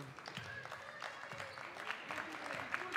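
Spectators in the stands clap during a Rishon LeZion vs. Ramat HaSharon basketball game in the second half, a soft, steady patter of applause heard from a distance with a few sharper claps rising out of it.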